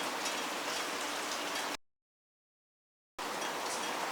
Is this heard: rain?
yes